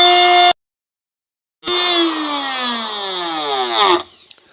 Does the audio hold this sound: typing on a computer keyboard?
no